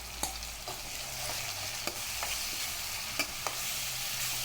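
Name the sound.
ginger garlic paste sautéing with onions in a pan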